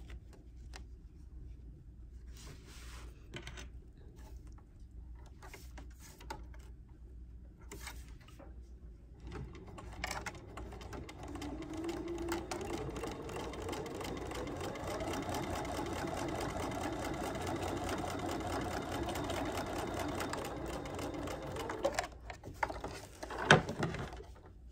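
Sewing machine stitching and back tacking, a rapid close mechanical patter that starts faint and intermittent, then runs loud and continuous for about ten seconds before stopping with a few clicks.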